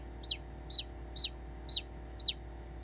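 A newly hatched chick in an incubator gives five evenly spaced, high, clear peeps, each short and bright, over a faint low hum of the incubator.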